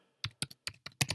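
Five or six quick, crisp taps sound on a computer keyboard as a Gmail username is typed in short bursts. The keystrokes are close and there is no voice.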